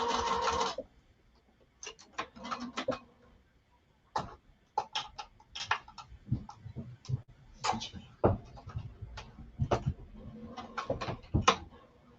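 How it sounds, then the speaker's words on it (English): A sewing machine basting fabric runs in short stop-start bursts of rapid stitching, close and quiet, with gaps of handling noise between runs. "So we just are basting down the side and across"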